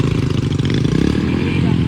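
A modified Hero Splendor motorcycle engine runs after a start, with a steady low thrum and rapid exhaust pulses close by, mixed with people talking.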